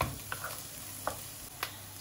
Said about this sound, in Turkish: biraz daha kavuruyorum.